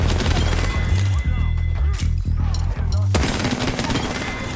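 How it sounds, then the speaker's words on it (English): Gunshots from an R99 submachine gun and a Longbow rifle in the video game Apex Legends ring out amid loud game noise, with several sharp cracks in quick succession and a brief lull before the action surges again. "Instead of reloading R99, I take the longbow shot"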